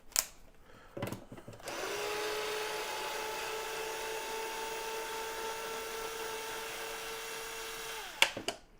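A power drill in clutch mode whines steadily for about six seconds while removing screws, preceded and followed by short bursts of clicks and handling noises, fairly near and alone.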